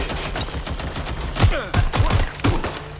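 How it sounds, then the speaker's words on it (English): Suppressive gunfire in a Watch Dogs: Legion firefight, several sharp close shots in an irregular burst cracking over a low background rumble. "Providing suppressive fire."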